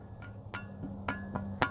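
Sharp metallic clinks ring out at irregular intervals, an imitation of clanking chains: several light rattling hits over a faint low hum, close and fairly quiet.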